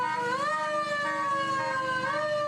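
Comstock Fire Department fire engine in a parade, its siren wailing up and down in a rising and falling sweep over a low engine rumble, loud and close.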